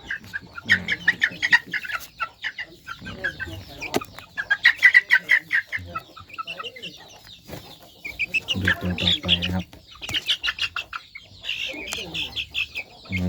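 Chickens cluck repeatedly nearby in short, rhythmic bursts on a farm, with occasional louder calls and some background voices, as wing bands are fitted.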